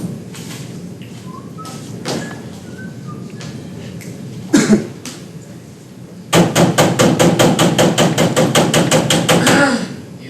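Heavy, loud pounding knocks on a door, a few scattered thuds first, then a long rapid volley of hard, regular bangs, with some coughing and throat clearing in between.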